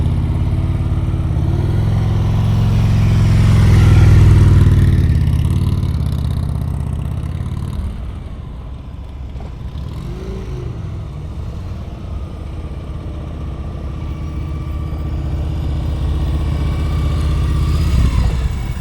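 Motorcycle engine during slow-speed U-turn practice on a Florida training course, a low steady idle that swells gently with light throttle and clutch work and then settles, heard alone without voices.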